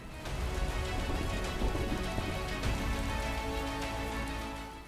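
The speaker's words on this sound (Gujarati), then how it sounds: "આહવામાં ધોધમાર વરસાદનું આગમન થયું" A hard downpour in Ahwa, Gujarat drums steadily on surfaces nearby, a thick, continuous patter of raindrops with no voices.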